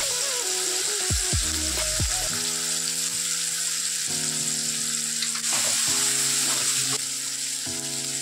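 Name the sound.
turmeric, chilli, coriander-cumin powder and peas frying in pan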